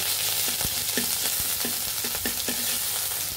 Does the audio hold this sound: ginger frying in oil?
yes